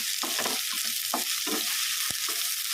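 A spatula stirs okra frying in a pan with turmeric, giving several scraping, clattering strokes over a steady close sizzle, with no talk.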